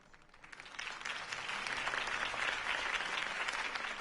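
Sustained audience applause rises after a campaign speech for Harvey Dent, a dense wash of clapping that swells and holds steady.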